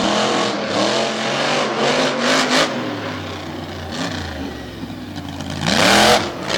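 A monster truck engine roars at Lake Erie Speedway, revving and surging loudly with rising and falling pitch, and a strong burst of acceleration near the end over a constant noisy arena background.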